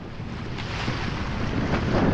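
Wind gusting across an exposed harbour on Marie-Galante, with waves slapping against moored boats; a steady, close, blustery roar with a broad wash of surf noise and buffeting on the microphone, no voices.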